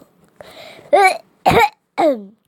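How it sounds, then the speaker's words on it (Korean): Three sharp, loud coughs in quick succession, close up, following a brief throat-clearing sound. "아, 기침난다"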